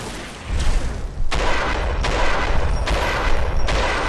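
Gunfire in Fallout: New Vegas, a steady hail of loud shots with several heavy booming reports at irregular intervals over continuous crackling battle noise, no talking.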